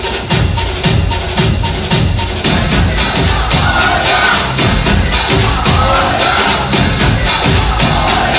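A loud, dense crowd at a Ganesh Vandana dance performance by the Sanskriti Dance Academy group on an awards-show stage, steady and close, with rhythmic thumps and cheering running under the din throughout.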